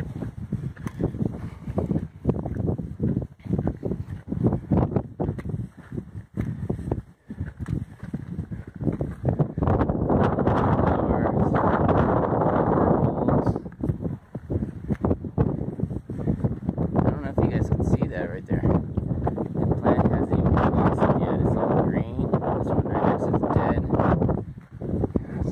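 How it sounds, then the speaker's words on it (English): Wind gusts across the microphone on a mountain section of the Pacific Crest Trail, a steady rushing roar that swells loud and continuous through the second half, with a few softer lulls and fainter crackles early on. "The wind's nice, keeping me cool."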